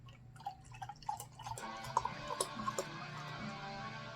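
Beer, The Beatus, is poured into a glass, starting with scattered drips and then a soft, close, steady gurgling trickle of liquid.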